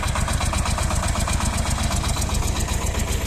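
A mini tractor with a rotary tiller works white mustard into the soil. Its engine drones loud and close, a steady, evenly pulsing chug with no talking.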